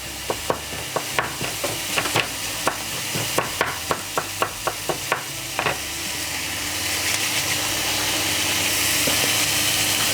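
Ingredients sweat in a pan with thyme for a sausage-in-brioche sauce, a steady close sizzle punctuated early on by a run of sharp utensil taps that give way to a building fry.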